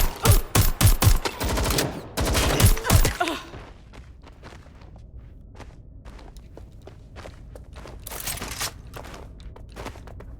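Watch Dogs Legion gunfire opens with about three seconds of loud, rapid shots in quick bursts, then fades to quieter scattered clicks and footsteps, with one more short flurry near the end.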